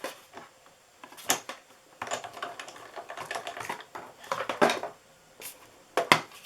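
A die-cutting machine clatters and grinds in uneven bursts as designer series paper feeds through, with rattling, clicking mechanical noise and brief pauses.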